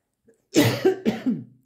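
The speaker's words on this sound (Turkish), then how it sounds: "Öksürük gıcık tuttu. Öksürdüm biraz." Two sharp coughs in quick succession, close and fairly loud, followed by a little throat-clearing rasp, with silence before them.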